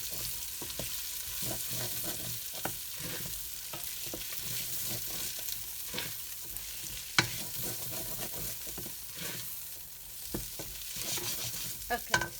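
Vegetables sizzling in a little oil for a creamy oats soup, a soft continuous fry with occasional sharp clicks of a utensil stirring against the pot.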